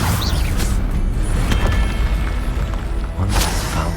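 A Confringo fire-spell blast in the Hogwarts Legacy video game, a loud booming explosion with rumbling impact and crackling debris, sustained and dense over game ambience.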